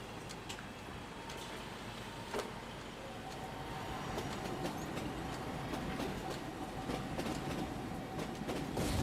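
A train rolling on rails in Foxhole, a steady rumbling roar with irregular clicking wheel-on-track clacks and a faint whine, building slightly louder, no talk.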